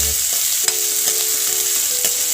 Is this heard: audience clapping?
no